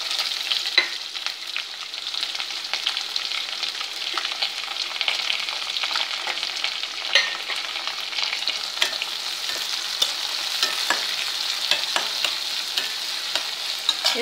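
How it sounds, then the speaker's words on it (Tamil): Chopped green chilies and onion frying with garlic in a pan, a steady close sizzle with scattered crackles and occasional stirring scrapes. "இப்போ நம்ம வந்து பச்சை மிளகாயும் பெரிய வெங்காயம் கட் பண்ணி போட்டுடலாம்."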